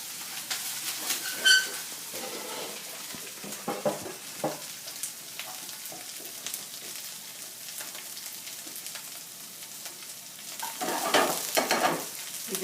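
Okra (bhindi) frying in a pan for an Indian okra masala, a steady close sizzle and crackle with occasional stirring scrapes, swelling louder toward the end, no voices.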